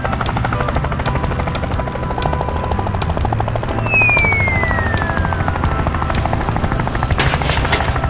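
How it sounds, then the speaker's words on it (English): Cartoon helicopter from a farming video game, delivering an assembled greenhouse: a steady, loud rotor chop runs throughout, with a bright descending whistle sweeping down midway, no talk. "The helicopter quickly delivered the fully assembled greenhouse to the monkey."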